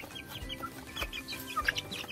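Free-range village chickens cluck softly and intermittently at close range around a backyard coop, with short scattered calls and a faint background of other birds.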